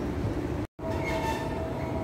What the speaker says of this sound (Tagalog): Papasok ng MRT guys.